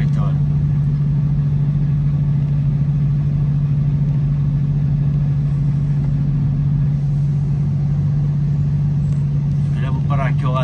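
A truck's engine drones loudly and steadily at close range while the truck pulls up beside a car transporter, with a strong low hum throughout. A voice comes in briefly near the end.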